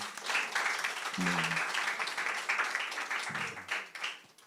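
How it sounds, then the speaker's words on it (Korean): An audience at a spring concert and talk event applauds in a steady patter of many hands, moderately close, while a voice briefly breaks in twice. "박수 한번 보내주십시오"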